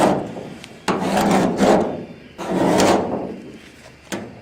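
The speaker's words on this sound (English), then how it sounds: "See, it just peeled right off." Stripped paint is scraped off a boat hull in two long rasping strokes, each with a sharp start, followed by a brief third scrape. The strokes are close and loud.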